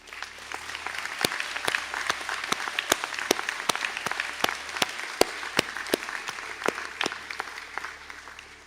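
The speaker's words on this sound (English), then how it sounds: "please be upstanding to receive a round of applause" Steady audience applause at a college conferring ceremony for civil engineering honours graduates, with sharp individual claps standing out over a continuous wash of clapping, moderately loud and sustained.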